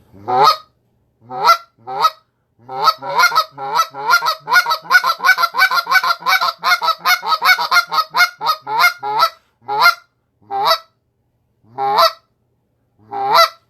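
A goose call imitates geese with loud, sharp honking clucks, starting spaced out, then speeding into a rapid excited run before slowing again.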